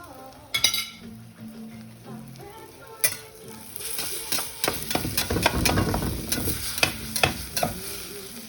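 Haitian eggs frying in oil in a pan: a steady sizzle that swells midway, with a utensil stirring and scraping and several sharp metallic clinks against the pan, close up and without speech.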